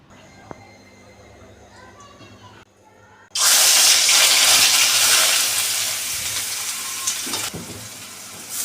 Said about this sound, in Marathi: कढई गरम झाली आणि त्यामध्ये मी दीड चमचा ऑइल टाकलं तर याच्यामध्ये आता कांदा तळून घ्यायचा आहे